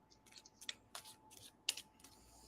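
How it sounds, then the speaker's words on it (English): Tarot cards being shuffled close up, a few quick papery riffles and taps spaced irregularly, faint and quiet with no talking. "Just a moment while I get shuffled up here."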